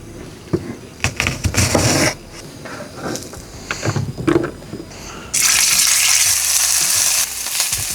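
Hamburgers and bacon fry over a campsite cooking setup, with scattered clatter and pan sounds early on, then a loud, steady close sizzle that fills the last few seconds.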